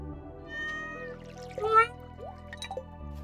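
Cat meowing inside the video game Stardew Valley, a short rising meow cry near the middle over steady game music, followed by a few brief soft chirps.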